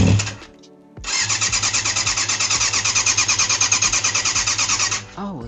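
A classic 1980s sportbike engine cranks briefly, then fires and runs with a loud, rapid pulsing beat for about four seconds before cutting out.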